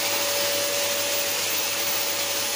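Indoors, a household vacuum cleaner runs steadily with a loud, constant high whine and airy roar, unbroken throughout with no voices.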